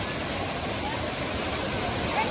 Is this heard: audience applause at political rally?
no